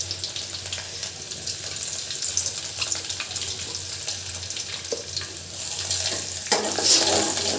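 Chopped garlic and onion frying together in a pan, a continuous close sizzle with occasional stirring scrapes, growing a little louder toward the end.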